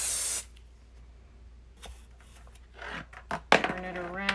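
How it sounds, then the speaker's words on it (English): A short hiss of Apple Brand Gardé Rain protector sprayed from a can onto a Vachetta leather bag opens the clip, followed by quiet handling noises, soft knocks and a few words of talk near the end. "I'm going to go ahead and spray this."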